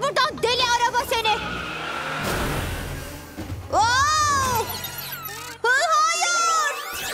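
A cartoon car in a children's animated show rushes past with a brief skidding whoosh, set among excited, animated character voices that talk over most of the moment.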